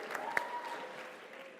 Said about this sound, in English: Give him another nice round of applause